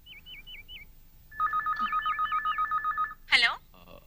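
A telephone ringtone trilling in repeated bursts, first alone, then as a steady electronic ring pattern for about two seconds, followed by a brief burst of talk.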